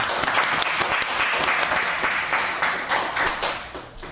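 A seminar audience applauds to welcome a visiting business professor at a Korean lecture gathering: dense, steady clapping from many hands fills the room throughout, loud and close, easing slightly near the end.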